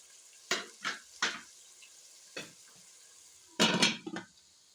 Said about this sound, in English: We're going to cover this so that we sweat our onion quite fast.